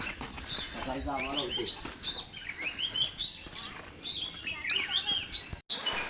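Several birds chirp in quick, repeated high morning tweets, fairly close, in a cashew orchard over a low outdoor background with a hint of voices.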